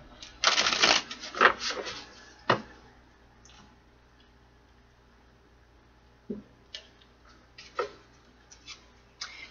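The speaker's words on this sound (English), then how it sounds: "One more shuffle." A quick, close riffle of tarot cards being shuffled, followed by quieter scattered taps and slides of cards.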